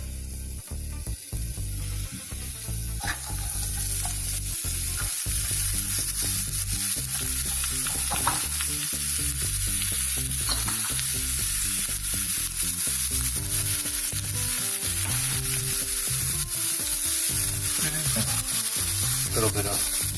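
Chopped onions sizzle steadily in hot olive oil in a pan, a continuous loud frying hiss with occasional stirring scrapes throughout, no talking.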